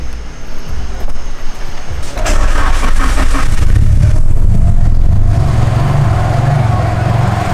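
A Nissan 300ZX Z32 twin-turbo engine cranks and catches after a couple of seconds, then settles into a loud, steady, rough idle close to the microphone.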